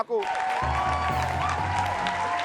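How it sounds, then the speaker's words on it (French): An audience applauds in a steady wash of clapping that starts suddenly and continues, with voices faintly mixed in. "Applaudissez pour Mako."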